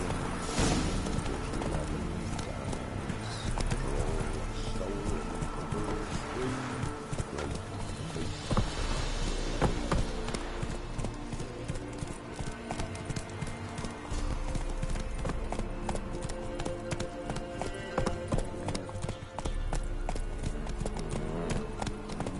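Horse hooves clip-clopping in Witcher 3, a steady rhythmic trot of several mounts on a road, close and continuous, set under ambient game music with no talk.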